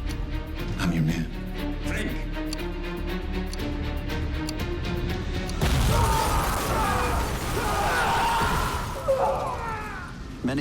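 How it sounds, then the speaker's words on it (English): A bomb blast at the Kempeitai headquarters in the TV series The Man in the High Castle erupts after a stretch of music, a loud broadband roar that rumbles on for several seconds before dying away. "Many die in the blast"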